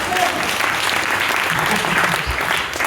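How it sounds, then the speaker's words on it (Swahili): A church congregation claps for Jesus during a sermon, a continuous, even wash of many hands clapping together from start to finish. "Piga Yesu makofi."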